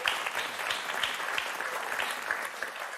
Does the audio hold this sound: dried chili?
no